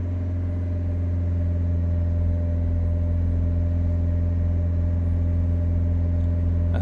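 Renault Trafic diesel engine running at a steady high idle around 3000 RPM, a continuous loud hum with strong steady harmonics, heard alone and close.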